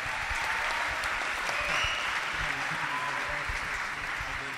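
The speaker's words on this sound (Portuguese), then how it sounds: "Acho que é um nordestino que puxou as palmas lá" A conference audience at a missionary gathering breaks into applause, a steady wash of many hands clapping at a distance, continuing evenly with a voice speaking faintly over it.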